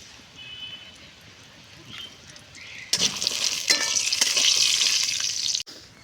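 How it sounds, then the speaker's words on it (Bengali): Bori (lentil dumplings) fry in hot oil in a wok. A quiet stretch gives way to a loud, dense, crackling sizzle that holds steady for a few seconds and then cuts off abruptly. "বড়িগুলো এখন ভেজে নিচ্ছি"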